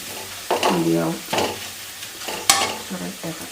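Onions frying slowly in a pan over a low flame while yam curry is cooked, with several close spoon-stirring scrapes over a gentle sizzle and a sharp clink near the middle.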